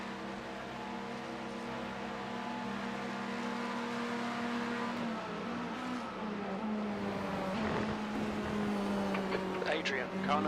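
A Cadillac GTP prototype race car engine drones at Le Mans in a racing video game, a loud, sustained tone that holds and then shifts pitch, while people talk over it.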